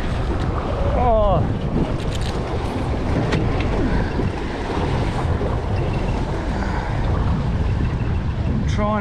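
Ocean waves surge and wash around a small fishing boat at sea near rocks, with strong wind buffeting the microphone, a continuous loud roar and faint voices.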